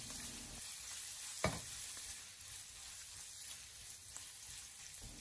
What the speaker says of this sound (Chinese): 将切好的肉末放进锅中，开小火给它煸炒一下